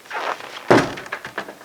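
A new wooden shed door swings shut with a single solid thunk, followed by a few soft knocks and rattles as it settles.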